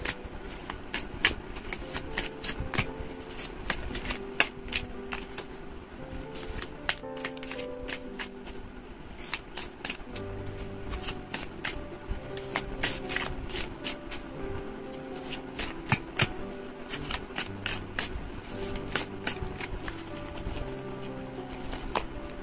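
Tarot and oracle cards being shuffled by hand, giving a continuous, close, soft riffling and flapping patter of card edges for over twenty seconds, with quiet background music underneath and no talking.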